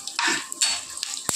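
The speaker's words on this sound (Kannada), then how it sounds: "ಅದು ಈಗ ಚಟ್ಪಟ್ ಅನ್ನಾಗತ್ತು" Peanuts crackle and sizzle in hot oil for a tempering for roti oggarane, with short bursts of frying and a sharp utensil clack near the end, close by and without talk.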